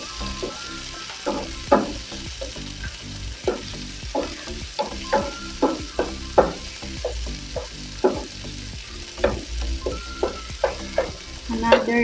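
Tomatoes and cabbage sautéing in a pan, with a steady sizzle broken by repeated clattering stirs of a utensil at an uneven rhythm, close and moderately loud, no talking.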